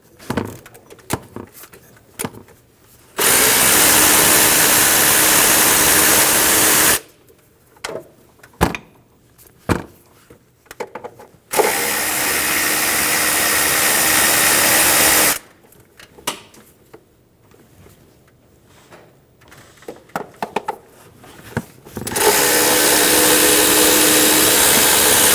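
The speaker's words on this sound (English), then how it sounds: "Using a 10mm socket, we're going to remove the bolts out of the top cover." A socket wrench works the top-cover bolts off a 2003–2008 Honda Pilot engine, with quick ratcheting clicks and handling noises broken up by long stretches of a loud, steady whooshing roar.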